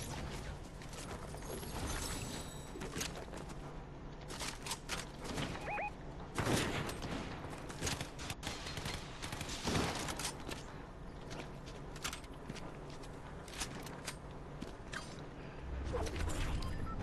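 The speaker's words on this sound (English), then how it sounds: "Why are you shooting?" Gunfire in a Fortnite match, dense bursts of shots and sharp cracks packed together over a constant noisy game mix, some louder spikes standing out midway.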